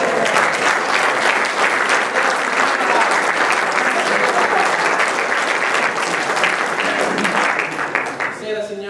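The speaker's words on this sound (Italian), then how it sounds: "Prego un grande applauso, scusate, per Vercingetorige Caratozzi." Loud, continuous applause from a theatre audience greeting a cabaret performer on stage, thick steady clapping that begins to thin and taper off near the end.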